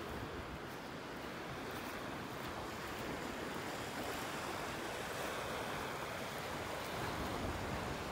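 Surf on the beach at North Naples, Florida, rolling in as a continuous, soft broadband wash with some wind rumble, fairly faint and unbroken, no talking.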